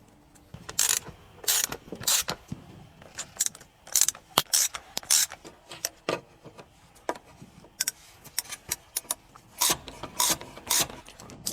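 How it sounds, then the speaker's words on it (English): Heat exchanger bolts are hand-tightened on a BMW N52/N54 engine, with a steady run of close, sharp metallic ratchet clicks and scraping turns repeated in quick irregular bursts. "Now let's install the heat exchanger. Hand tighten the bolts."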